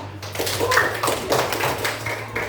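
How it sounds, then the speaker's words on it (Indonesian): Classmates in a coding and artificial intelligence lesson clap for a fellow student, a brief burst of uneven tapping claps from a small group, close and moderately loud, with some voices underneath. "Kasih aplaus dan tepuk tangan untuk temanmu"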